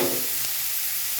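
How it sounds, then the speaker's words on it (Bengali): Onion fries lightly in a pan, a soft continuous sizzle and hiss close by, alone with no voices. "এই পেঁয়াজটাকে একটু হালকা ফ্রাই করে নেব।"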